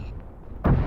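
A military video game firefight in which gunfire is aimed at the player: near-silence, then a single loud, close burst of fire that booms in the last third.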